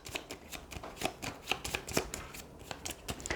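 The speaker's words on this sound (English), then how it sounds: "Let's shuffle these." Playing cards riffle and snap in quick, crisp bursts, shuffled repeatedly at close range with a brisk, uneven rhythm.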